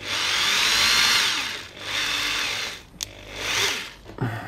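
An electric drill spins a mechanical speedometer cable held in its chuck, whirring in three long bursts separated by short pauses, close and loud, with a faint clunk near the end.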